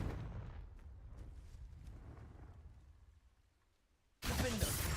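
A fiery explosion spell goes off in a Hogwarts wizard video game, a rumbling blast that fades over several seconds before a sudden loud burst cuts in at the end.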